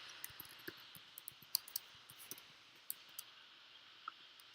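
Keys tapped on a computer keyboard while entering a name in New Relic software setup: faint, irregular light clicks in short bursts, heard alone against a quiet room hiss.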